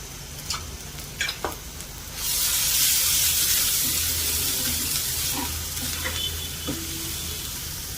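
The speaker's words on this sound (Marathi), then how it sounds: "तेल सुटेपर्यंत व्यवस्थित फ्राय होऊ द्या मीडियम गॅसवर" Chicken masala fries in oil over a medium gas flame, a close, loud broad sizzle that surges after a few faint clatters and then continues steadily, easing slightly toward the end.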